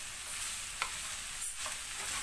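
Onions fry in oil in a pan for homemade chicken döner, a faint steady sizzle with a couple of soft stirring scrapes, heard alone.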